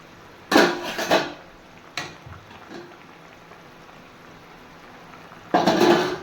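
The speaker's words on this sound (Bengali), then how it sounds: "এবারে আমি ঢাকা তুলে নেব" A lid is lifted off a pot of boiled potatoes and paneer, with a couple of metallic clanks near the start, a faint simmer in between, and another clattering scrape at the end.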